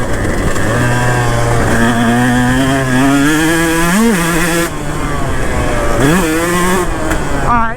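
KTM 150 SX two-stroke dirt bike ridden hard around a corner, its engine revving loud and close with rising and falling pitch through throttle blips and shifts, steady and buzzy for the whole stretch.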